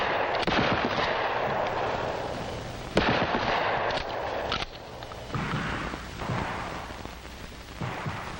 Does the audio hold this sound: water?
no